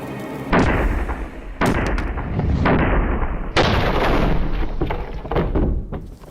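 A medieval breech-loading cannon fires three times. Each shot is a loud, sharp boom followed by a long, rumbling decay, spaced a second or two apart.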